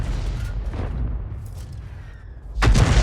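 A tank cannon in a World of Tanks-style battle fires once near the end, a sudden heavy boom following a stretch of low rumbling battlefield ambience and faint distant thuds.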